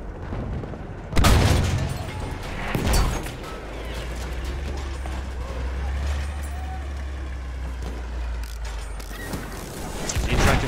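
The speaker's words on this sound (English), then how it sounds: "That's a tank!" Heavy tank in Battlefield 1 rumbling with a sustained low engine drone and clanking mechanical movement, punctuated by loud booming impacts near the start and end.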